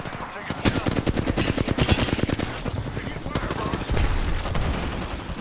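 Rapid automatic gunfire from an Apex Legends tournament match, dense repeated bursts up close with overlapping shots and explosive thuds, loud and continuous throughout.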